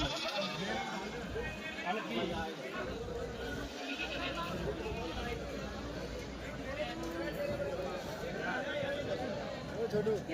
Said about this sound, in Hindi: ये बकरियां खड़ी हैं बड़ी फ्रेम में।